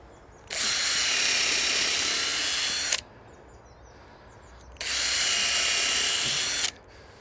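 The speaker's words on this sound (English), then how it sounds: "What I'm going to do is drill down in line with this inner board." A power drill bores into pallet wood for a chair build, running in two steady high-pitched bursts of about two seconds each with a short pause between, close by.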